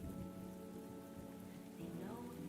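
Rain falls during a cutscene in the game Honkai: Star Rail, a soft steady patter on surfaces with a low rumbling bed beneath and faint tonal hum, quiet and continuous.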